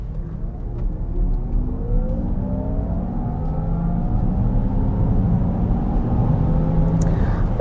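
A 2024 Honda Prologue all-wheel-drive electric SUV pulls away from a stop, its rising motor whine and road and tire rumble building steadily from inside the cabin, with no talk.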